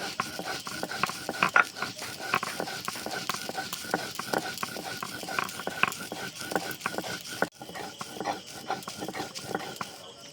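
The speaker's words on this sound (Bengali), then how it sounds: "এটা মিহি করে বাটতে হবে তার জন্য আমি আর একবারও ভালোভাবে বেটে নিচ্ছি" Garlic and black cumin being ground into a fine paste for Bangladeshi garlic bharta, a rapid train of close, scraping grinding strokes with a brief pause, continuing without speech.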